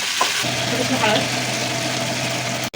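Spices and garlic frying in hot oil for dal, with turmeric, salt and red chilli powder added, steady close sizzle under a low hum, with a few light ladle scrapes and a brief cut near the end.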